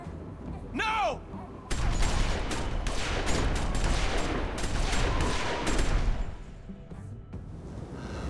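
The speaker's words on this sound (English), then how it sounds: "The episode ending as gunfire breaks out." Intense, rapid gunfire from The Walking Dead Season Two video game erupts after a brief shouted voice and continues in dense, overlapping volleys for several seconds, then thins out near the end.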